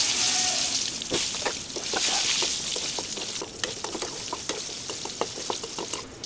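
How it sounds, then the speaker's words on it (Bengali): Cut potatoes fry in hot oil in a pan, a close, bubbling sizzle broken by stirring clinks and scrapes, with a brief voice early on. "এখন এই একই তেলের ভিতরে আমি কেটে রাখা আলুগুলো ভেজে নেব"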